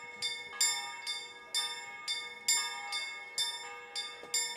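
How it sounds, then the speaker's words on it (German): A bell rings repeatedly in the medieval video game Kingdom Come: Deliverance, struck at a steady rhythm with bright metallic strikes that ring out and overlap, fairly faint and without voices. "Ich weiß nicht auch, wofür die Glocke ist."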